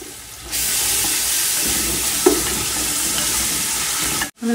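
Ginger garlic paste hits hot oil with whole spices in a pan, giving a loud, steady sizzle and hiss with some stirring, close up and without speech.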